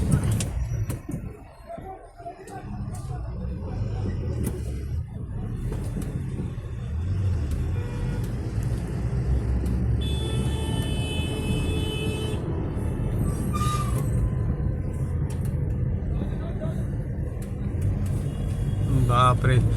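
Cars and buses crawl in a traffic jam on the Konkan to Mumbai road, a steady low rumble of idling engines and slow-moving vehicles with a horn now and then, continuous and close, under talk.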